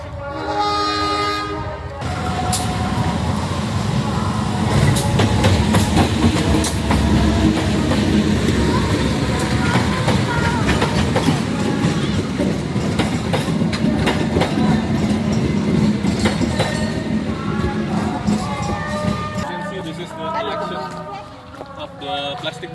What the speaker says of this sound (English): There is the Java train